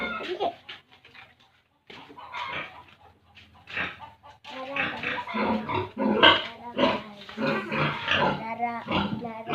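A mother sow with newborn piglets grunts and squeals close by, with busy overlapping squeaks that grow louder toward the end. Speech may be mixed in.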